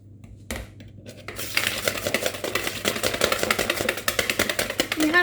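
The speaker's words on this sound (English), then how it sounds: "now we're going to carry on mixing" Victoria sponge cake batter, strawberry and cream style, beaten quickly in a bowl: after a brief pause, a dense, rapid run of clattering utensil strokes builds and stays close and loud.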